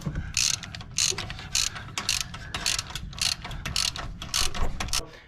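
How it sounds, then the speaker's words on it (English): A ratchet wrench tightens bolts on a Jeep track bar brace during a 2021 Jeep Wrangler install, giving about a dozen quick, close clicking bursts in a steady back-and-forth rhythm over a faint background hum. "This actually might be easier if we tighten these bolts and suck it together."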